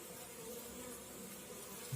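A mass of honeybees flies around their hives during an early-spring cleansing flight, a soft, continuous buzzing hum at low level with no talking.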